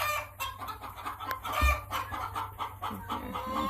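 A small crested green egger chick clucks on a farm among other chickens, with busy overlapping clucks and a brief rooster-like call, close and fairly loud throughout.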